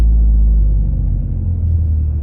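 A Toyota GR Corolla pulls away from a standstill, its engine a loud, deep low rumble heard from inside the cabin that settles into a steady drone as the car gets moving.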